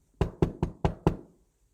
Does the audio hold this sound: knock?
yes